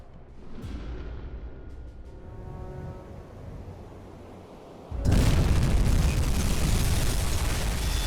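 Torpedo striking a ship in the U-boat game UBOAT, opening with a sharp distant impact and low rumble, then a sudden loud booming explosion that keeps roaring steadily to the end.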